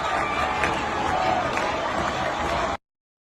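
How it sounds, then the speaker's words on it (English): A huge crowd of protesters in Iran roars steadily and densely throughout, a continuous wash of many voices that cuts off abruptly near the end. "Huge crowd. Unstoppable crowd."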